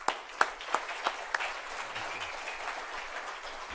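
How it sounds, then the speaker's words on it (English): Faint, sparse applause from an audience after a presentation at an operational excellence event, opening with a few distinct claps before settling into a soft, distant patter. "Let's give him one more round of applause."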